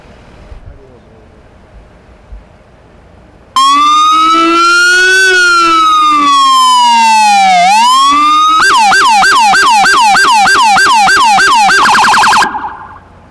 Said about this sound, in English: We'll go ahead and play the siren for you to show you how much louder that is